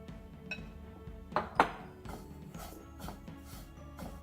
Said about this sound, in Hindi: हम इस पैन में कोकोनट को ब्राउन होने तक भून लेंगे, थोड़ा थोड़ा करके।